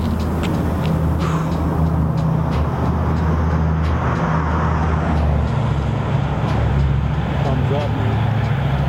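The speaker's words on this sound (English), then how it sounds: "Just watching cars go by." Cars rolling past on the Trans-Canada Highway in the open countryside of Ontario, a continuous loud roadway roar with tire hiss and engine rumble, heavy and unbroken.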